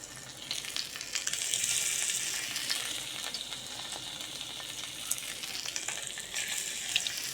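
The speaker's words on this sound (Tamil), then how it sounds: "சரி வாங்க இப்போ போய் கல்லில் போய் அந்த மீனை வைக்கலாம்" Fish sizzles steadily on a hot stone griddle, a broad crackling hiss with brief pops and a swell in intensity near the start, close by with no voices.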